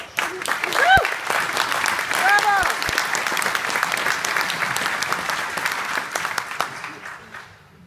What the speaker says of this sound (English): give Palm Drive Hospital a round of applause